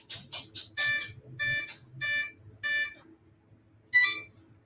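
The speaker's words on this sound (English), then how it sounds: "Smart ESC in there, so it's gonna make the smart jingles" An RC model's smart ESC plays its startup jingle: a quick run of short rising tones, then four longer evenly spaced beeps and one final beep, close and clear, with no talking.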